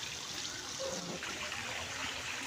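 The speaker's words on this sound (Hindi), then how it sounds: "पानी भर आ गया, पानी घर लेगा था।" Water runs steadily into a domestic container as it fills, a continuous close trickling and splashing without pause.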